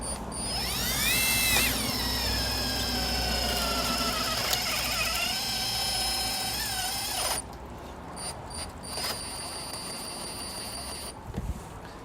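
A Hikoki hydraulic impact driver drives a screw through two metal sheets, a steady whirring, pulsing hum with a rising whine that slows as it bites the second sheet, then stops, followed by quieter handling clicks.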